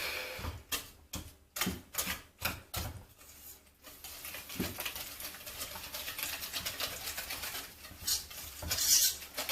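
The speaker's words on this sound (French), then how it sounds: "Ensuite, on mélange tout ça avec un fouet." Whisk beating crêpe batter in a bowl, made with a little sugar and cinnamon: a run of quick rhythmic clinking strokes, close and fairly loud, then softer continuous stirring and scraping.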